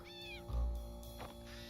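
A cat in a video game gives one or two clear drawn-out meows over a steady hum of game music, with no speech.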